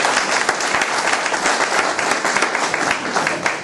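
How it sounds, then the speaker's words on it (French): A conference audience breaks into steady, dense applause, many hands clapping together at moderate volume with no voice over it. "je tiens vraiment à ce que vous vous applaudissiez vous-même"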